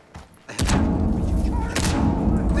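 A breach charge detonates in the tactical shooter TAW: a heavy close thud and blast, followed by a sustained loud rumble and a second impact, with a voice speaking over it.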